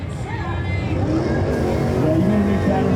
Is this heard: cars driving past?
yes